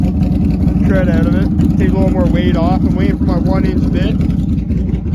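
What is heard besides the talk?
Can-Am Outlander ATV engine running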